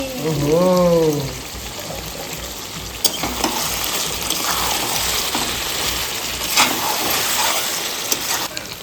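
Mutton kosha fries down in a pan as the water dries off and oil separates from the meat, a steady sizzle with occasional stirring clicks and a brief voice at the start.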